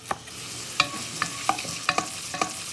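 Vegetables for stock, including unpeeled carrot, sauté in a pot with a soft frying sizzle and several sharp spoon clinks and stirs spaced about half a second apart, close up with no voices.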